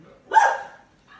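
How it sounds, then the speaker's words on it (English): A single loud, close dog bark at the front door as a postman passes, followed by brief quiet and a faint trailing sound. "he's gonna start barking at the front door now"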